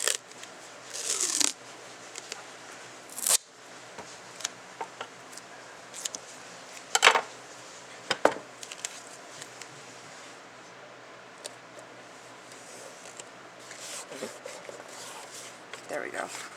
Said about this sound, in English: so I'll just go over this with tape real quick, because you want to tape both sides